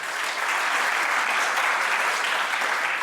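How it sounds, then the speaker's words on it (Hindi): An audience at a college fest at DAV PG College in Varanasi bursts into loud, dense, sustained clapping that holds evenly throughout, with no talk over it. "एक बार आप सब अपने लिए एक बार जोरदार तालियां बजाइए"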